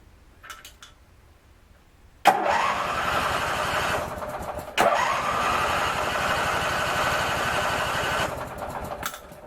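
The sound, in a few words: Craftsman engine starting and running briefly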